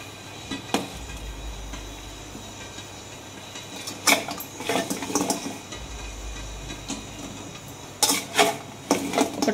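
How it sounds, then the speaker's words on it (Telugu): Fried gulab jamuns are dropped one after another into sugar syrup. The plops and splashes come in small clusters near the middle and end, over a low background rumble. "ఈ పాకంలో వేసేస్తున్నాను అన్నీ."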